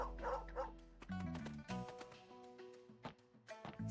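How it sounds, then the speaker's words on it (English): A dog in the Murders on the Yangtze River game, eating steamed buns, gives several short yips and barks amid game music and tapping effects, moderately close and fairly quiet. "there's a dog eating a bun"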